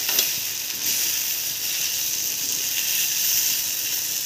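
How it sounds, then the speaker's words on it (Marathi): Besan mutkule crumbled with coriander leaves frying in a pan produce a constant bright hiss and sizzle, steady and moderately loud throughout the short stretch, without speech. "बस 1-2 मिनिटच फ्राय करायचं आहे।"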